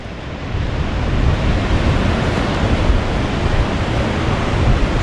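Ocean surf on a Baja California beach roars loud and continuous, a steady wash of breaking waves mixed with wind buffeting the microphone, with no voices.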